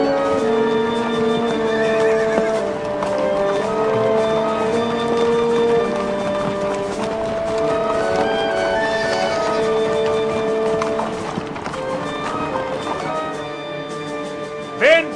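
Horses whinny repeatedly over steady hoofbeats and a dense orchestral-like backdrop in a historical TV drama, the neighs rising clearly above the continuous bed of sound.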